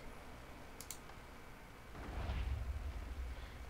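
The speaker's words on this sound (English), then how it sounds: "that looks like a lot of explosions" Lasers trigger explosions in a modded Minecraft-style game with the Actually Additions mod. A low, rumbling burst swells in the second half over faint clicks, sounding muffled and moderately distant.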